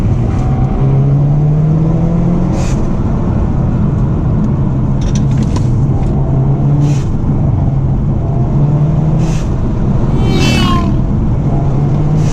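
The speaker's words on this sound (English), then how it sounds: "Pops and bangs." Hyundai Veloster N sports car with a blow-off valve fitted, its exhaust droning loudly and continuously while several short crackling pops and bangs break through at intervals.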